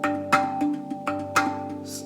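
RAV Vast G Pygmy tongue drum struck in a loose, floppy rhythm, several ringing metallic tones with sustained hum between strikes, close and moderately quiet.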